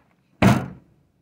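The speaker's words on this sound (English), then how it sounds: "let's shut this door." A camper van door is swung shut once with a single solid thunk, close by, followed by a short fading rattle and then silence.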